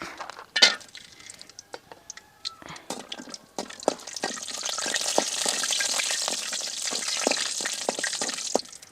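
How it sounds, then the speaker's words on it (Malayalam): Cashew nuts dropped into hot ghee for semiya payasam, starting with a few sharp clinks and scattered crackles, then building into a steady, dense sizzle that holds loud and close to the end, with occasional pops and no talking. "നെയ്യ് ചൂടായ നമുക്ക് ആദ്യം ഈ അണ്ടിപ്പരിപ്പ് അതിലിട്ട് കൊടുക്കാം."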